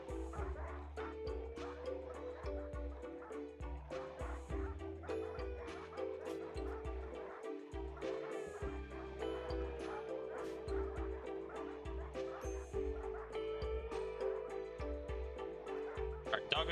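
Several dogs in the RimWorld video game yip, bark and whimper in quick, overlapping bursts over a steady low background hum, continuing throughout at moderate volume.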